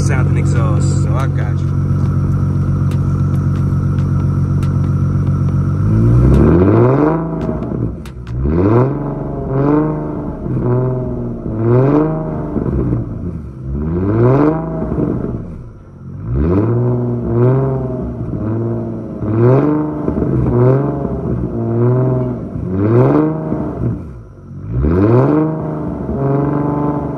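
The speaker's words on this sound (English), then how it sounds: "I'll set the camera up and let you guys hear the revs." A car with an illegally modified exhaust idles steadily, then revs repeatedly in sharp surges, the exhaust rising and falling in a loud, rhythmic series of blips.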